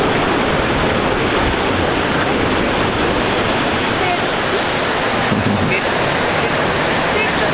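Old waterfall in Milford, a steady loud broadband roar of falling water that fills the whole stretch without break.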